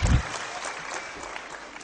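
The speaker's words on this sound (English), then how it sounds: "give them a round of applause for a fabulous job" A student conference audience applauds the organizing committee in a brief, dense burst of clapping that opens with a heavy thump, then settles into an even, hissing wash of many hands.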